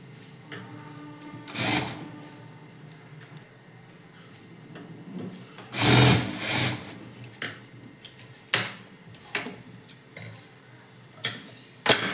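A sewing machine stitches a baby frock in short bursts of rapid mechanical ticking and whirring, separated by quiet pauses and handling clicks, with one longer, louder run of stitching in the middle.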